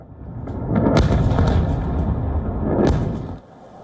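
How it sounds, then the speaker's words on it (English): Heavy missile explosions rumble and boom from miles away at night, with a couple of sharper cracks rising out of a long rolling roar. "The explosions are heard from miles away."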